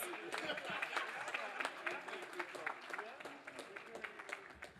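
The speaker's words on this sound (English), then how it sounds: "Clap him now, please." At a public bodies corporate governance awards ceremony, the audience claps for an award winner's CEO: quiet, somewhat distant applause with distinct individual claps, mixed with a faint murmur of voices.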